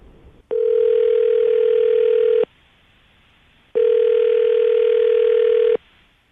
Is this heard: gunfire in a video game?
no